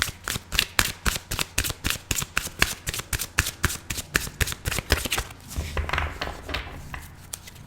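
A deck of tarot cards is shuffled up close, a quick rhythmic run of crisp riffling snaps, then a softer, smeared ruffle as the cards settle, with no talking.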